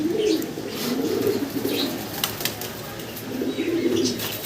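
Magpie pigeons coo in low, repeated phrases with brief bursts of wing fluttering, close by and moderately loud against a steady background.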